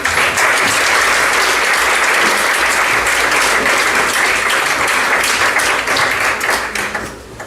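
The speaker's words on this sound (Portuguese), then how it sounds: "O vosso aplauso para o Luís Hélio." A large audience applauds loudly and steadily for Luís Hélio at a Portuguese talk, a dense, sustained wash of clapping that holds for several seconds before thinning and fading at the end.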